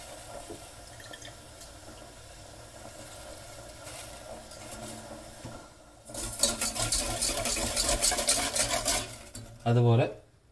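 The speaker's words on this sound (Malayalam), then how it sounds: "ജലാറ്റിൻ അതിലേക്ക് ഇട്ട് കൊടുത്ത് നല്ലതുപോലെ ഒന്ന് മിക്സ് ചെയ്യാം." Gelatin being stirred into a no-bake blueberry cheesecake mixture, a soft scraping that turns into busy, clattering spoon-on-bowl mixing from about six seconds, ending in a brief louder knock near the close.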